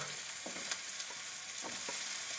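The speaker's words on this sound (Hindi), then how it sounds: "और हम इसमें मिर्ची और प्याज फ्राई कर लेंगे।" Chilies and onions frying in a wok for pasta, a steady close hiss of hot oil with occasional stirring scrapes and pops, no voices.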